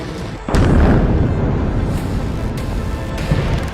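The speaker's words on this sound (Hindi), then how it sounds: "इजरायल की एयरफोर्स बेरूत में हिजबुल्लाह के ठिकानों पर मिसाइल और बम बरसा रही है" Israeli air strikes hit Beirut, a loud close blast booming suddenly and then rolling on as a dense, continuous rumble with further distant thuds.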